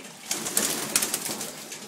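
Young pigeons in a loft in Puna, Hilo, Hawaii give soft coos amid light rustling and a few sharp taps and wing flutters, fairly close and steady without any talk.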